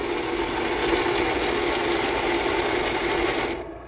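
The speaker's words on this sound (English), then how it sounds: "that's the sound of the SoyaJoy grinding it." A SoyaJoy G5 soy milk machine grinds soybeans with a steady, dense whirring buzz, like a motor with a rattling edge, that holds for several seconds, then suddenly cuts to a low hum.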